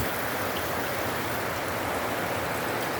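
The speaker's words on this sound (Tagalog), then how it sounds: "Cannot tell if it's raining. It's raining." Steady, dense rain falls heavily throughout, a continuous loud hiss of drops on surfaces with no letup and no voices.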